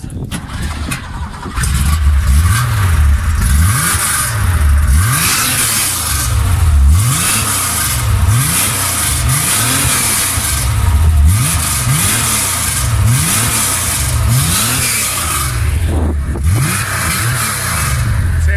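A Porsche engine revs hard in repeated rising and falling surges at a car meet, loud and close, with a deep throaty rumble throughout.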